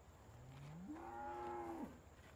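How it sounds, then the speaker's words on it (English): A single low moo from a cow in the video game Farming Simulator 17 rises and holds before dropping off, fairly faint against a quiet background hum, with no talking. "Our moo cows."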